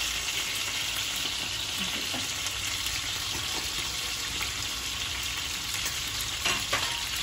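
Miso fries in hot oil with a dense, even sizzle, soft scrapes and taps of a utensil pressing and stirring it in the pan, a couple of louder knocks near the end.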